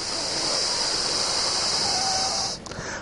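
Steady breathy exhalation pushed out through the nose during a guided breathing exercise, a continuous soft hiss lasting about two and a half seconds before easing off, heard alone without talk.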